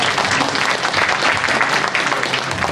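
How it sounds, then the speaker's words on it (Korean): Loud, dense clapping from a hall audience at a political forum on unification at Sejong Center, welcoming a district committee chairman; continuous and close throughout. "박수로 맞이해주시기 바랍니다."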